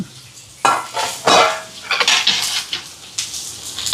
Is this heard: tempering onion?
yes